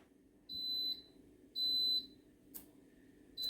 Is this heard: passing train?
no